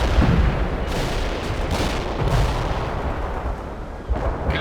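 Heavy artillery fire in the video game World in Conflict, a dense, continuous rumble of booming shots and blasts rolling on throughout with no clear breaks, loud and close.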